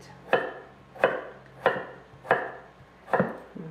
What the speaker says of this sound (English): Then we'll cut our carrots.